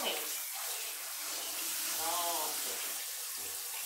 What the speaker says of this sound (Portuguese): E vamos lavar na água corrente.